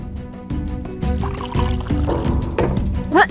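Drinking water pours into a glass indoors in a brief, close splash that rises in pitch as it fills, with voices talking and background music alongside.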